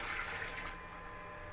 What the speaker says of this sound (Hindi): अब मैं इसमें पानी ऐड करती हूँ।